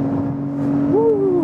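A car engine revs up with a rising whine, steady and close, climbing in pitch as it accelerates.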